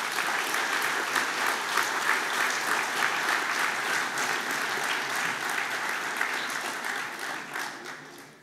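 At the Altmark business award ceremony 2022, a hall audience applauds in a long, even wash of many clapping hands that gradually fades toward the end.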